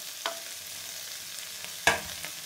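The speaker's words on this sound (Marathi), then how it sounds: "हे पण छान परतून घ्यायचं।" Coriander, garlic and tamarind sauté in a pan for a chutney under a soft, steady sizzle, broken by two brief scraping stirs.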